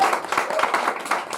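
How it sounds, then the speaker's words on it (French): Audience applause welcoming a guest named Albert Mellet at a stage performance, a dense burst of clapping filling the whole moment, loud and close. "Je vous demande d'applaudir monsieur Albert Mellet"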